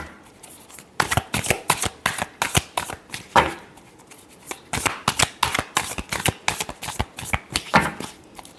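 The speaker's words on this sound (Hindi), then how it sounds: "Last shuffle." Tarot cards being shuffled in repeated quick bursts of riffling and flicking, close and crisp, with a short pause between two rounds.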